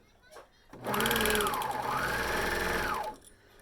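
A sewing machine stitches a Candy Pocket Tee from RockerByeDestash Patterns in one steady, fast whirring run of about two seconds. A voice speaks faintly over the motor.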